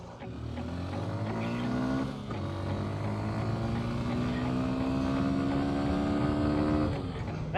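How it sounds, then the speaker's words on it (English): A big truck passes on the Hai Van Pass mountain road in Vietnam, its engine a deep, rising drone with a harmonic whine growing louder as it goes by, close and steady for several seconds. "That's a big truck."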